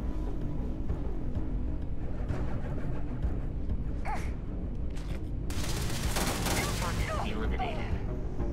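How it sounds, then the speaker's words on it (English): Gunfire in the sci-fi video game Starfield, a dense burst of rapid shots and impacts building toward the end, loud and close over steady background game sound. "Where are they shooting from?"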